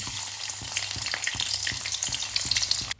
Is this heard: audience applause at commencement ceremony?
no